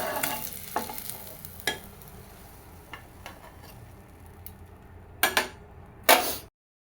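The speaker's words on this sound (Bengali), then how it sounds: "আর কয়টা ডিমও ভাজা হয়ে গেছে" Eggs fry in oil in a home kitchen pan with a steady, fairly quiet sizzle, broken by a few sharp clinks and scrapes of a utensil against the pan near the end.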